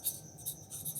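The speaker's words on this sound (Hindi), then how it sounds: "हम यहां पे लिखेंगे" Pen or pencil writing on paper during a maths lesson, a soft, close scratching with short irregular strokes, faint and alone without talk.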